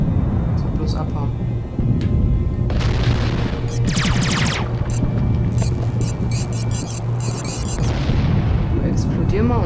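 A heavy, rumbling explosion from the War of the Worlds video game fills the whole stretch, loud and sustained, with sharper crackling bursts flaring up over the deep roar.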